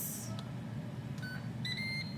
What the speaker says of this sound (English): I'm gonna set the timer for about 3 minutes on the tortillas.